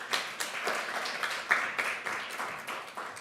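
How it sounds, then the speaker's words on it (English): Conference attendees give a modest round of applause for the panelists at a climate and security conference, soft scattered clapping with a few sharper claps, fairly distant and quiet. "Please give a round of applause to our panelists."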